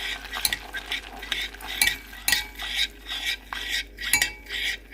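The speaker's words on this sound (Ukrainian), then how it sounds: "перемішуємо" A spoon scrapes and clinks steadily around a bowl, stirring butter and sugar for Belgian waffle batter in uneven strokes, with a faint sizzle underneath and no talking.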